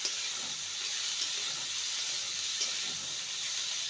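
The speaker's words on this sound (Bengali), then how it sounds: "ভালো করে সবজিগুলোকে নেড়ে নেব।" Mixed vegetables with a little potato frying in a pan as they are stirred, giving a steady, soft sizzle and hiss with faint scraping, continuous and fairly quiet, no voices.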